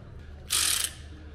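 A spanner works on a stripped sump plug, giving one brief, sharp, close-up ratcheting rasp that lasts about a third of a second against a quiet background.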